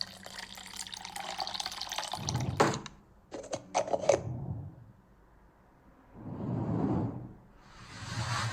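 Water poured as a sound effect mixed with whooshes: a bright splashing pour, then sharp clicks and swishes, a pause, and another swelling liquid rush near the end.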